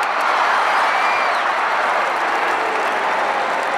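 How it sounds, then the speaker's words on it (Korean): A crowd cheering sound effect from a sound library, a dense, steady roar of many voices with applause-like texture, loud and continuous throughout. "예, 환호성을 지르고 있습니다."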